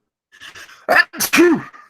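A man's sneeze bursts out twice in quick succession, loud and close, after some faint breathy sounds, during a casual tech news chat.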